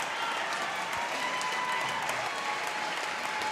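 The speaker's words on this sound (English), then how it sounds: "should get a nice round of applause. And he does, standing ovation." A basketball arena crowd gives a standing ovation to a player leaving a high school sectional semifinal game, steady dense applause filling the whole stretch without a break.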